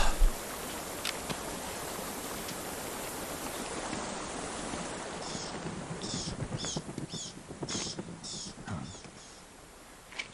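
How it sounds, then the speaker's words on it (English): Steady rushing waterfall in Metal Gear Solid 3: Snake Eater, a constant broad roar of falling water with a few sharper splashing or rustling accents toward the end. "We just have to get through the waterfall."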